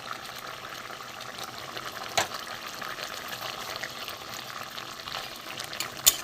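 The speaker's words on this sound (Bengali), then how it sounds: "এবার ফুটতে থাকুক, দেখাচ্ছি।" A fish curry with potato and eggplant simmers in a pan, making a soft, steady bubbling sizzle up close, with a couple of brief clinks or stirs breaking through.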